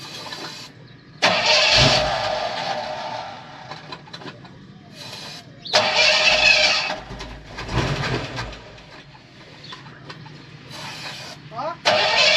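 A 1934 three-window coupe cranking and trying to start, with repeated loud bursts of starter churning and sputtering separated by quieter pauses, and people talking between attempts.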